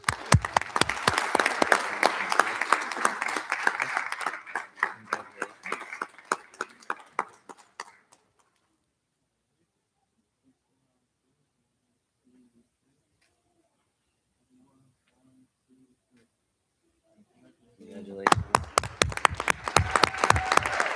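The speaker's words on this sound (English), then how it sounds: "Another round of applause for our" Audience applause at a school board meeting honoring the Academic Support Teacher of the Month, dense clapping for about eight seconds that fades to near silence, then a second burst of applause returns near the end.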